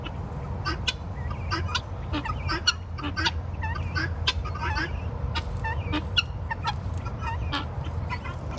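A flock of turkeys gobbling and clucking close by, repeated calls overlapping steadily over a constant outdoor rumble, with no talking.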